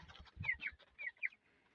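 Broiler chickens cluck and chirp close by in a few quick, soft calls, then fall quiet.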